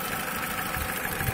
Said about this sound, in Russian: естественно, так как двигатель работает